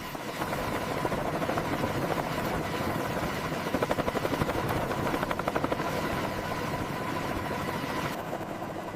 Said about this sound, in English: As the rotor RPM climbs toward 294, the Apache begins to breathe.